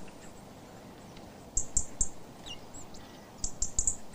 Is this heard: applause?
no